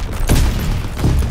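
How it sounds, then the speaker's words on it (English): Stun grenade going off in a Call of Duty: WWII multiplayer match, a loud muffled boom followed by a second thump a moment later, close and alone without talk. "Throwing stun grenade."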